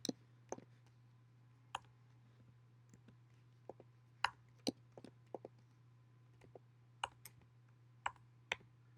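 Sparse key clicks from Bengali text being typed on a computer keyboard, irregular and fairly close, over a steady low hum, with no talking.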